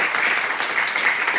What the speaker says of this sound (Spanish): Demos un aplauso al doctor Modesto Sosa.